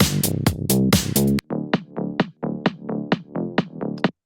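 A drum breakdown in music production with the lows and highs filtered out: full, punchy drums for over a second, then a thinner, band-limited beat of repeated hits in steady rhythm.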